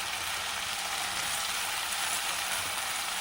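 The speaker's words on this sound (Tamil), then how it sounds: "இதை நல்லா வதக்கிக்கணும்" Brinjal, radish, carrot, mango and potato sauté in hot oil for Chennai-style vatha kulambu, giving an even, close sizzling hiss throughout.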